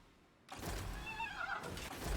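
Horse neighing in the strategy game Total War: Warhammer 2, a loud whinny with a rising and falling warble that starts abruptly after a short quiet lead-in and carries over steady battle-scene ambience.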